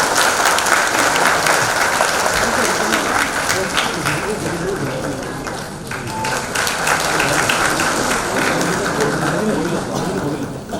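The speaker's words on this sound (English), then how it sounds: "May we have a huge round of applause" A large audience at a literary event in Guwahati gives a sustained, loud round of applause as a guest comes up to the stage, a dense wash of clapping that holds steady for the whole stretch with some voices mixed in.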